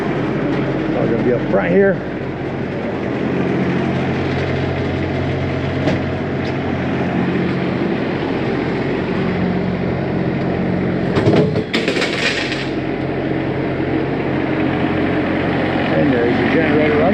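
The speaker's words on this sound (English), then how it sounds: "And there's your generator running." Generator running on a 2019 Berkshire 40D motorhome, steady low droning hum that continues throughout, heard up close outdoors while a person talks over it.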